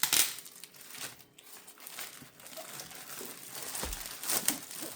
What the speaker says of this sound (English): Let's go ahead and take the outer plastic off here.